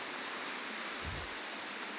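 Floodwater after Typhoon Tino rushes past in a continuous broadband roar, close and steady like a strong stream, with a brief low thump partway through.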